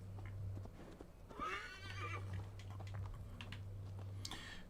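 A horse mount in the video game Assassin's Creed Valhalla gives a clear whinny midway, set among steady game ambience with a low hum and hoof clops nearby.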